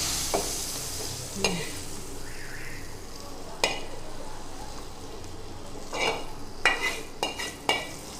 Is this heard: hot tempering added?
yes